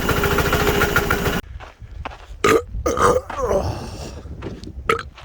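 A diesel tractor running in low range on winter diesel sends out a loud, close, steady engine rumble for about a second and a half. It then cuts away to someone talking, with a few scattered knocks.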